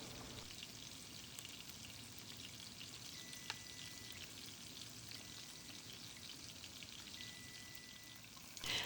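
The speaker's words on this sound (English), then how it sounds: "I start by frying the thicker portions 2 minutes per side, beginning with the skin side down." A salmon fillet fries in vegetable oil in a Cuisinart skillet, a faint, steady crackling sizzle throughout with a few soft clicks, no voices.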